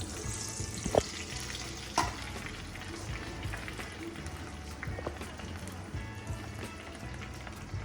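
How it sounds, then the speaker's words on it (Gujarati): Onions dropped into hot oil for a homemade hair oil, a steady low sizzle with a couple of sharp clatters near the start and scattered stirring scrapes throughout. "જો તેલ ગરમ થઈ ગયું છે, પહેલાં આપણે કાંદા નાખી દઈશું."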